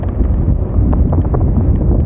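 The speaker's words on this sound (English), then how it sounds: "Very windy." Strong wind buffets the microphone in a steady low roar, with faint rushing noise and no voices.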